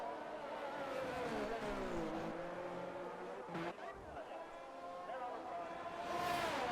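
A race car engine in a racing video game at Monza hums steadily with shifting pitch as the car leaves the pits, running under a commentator's talk, with a brief break and a surge near the end.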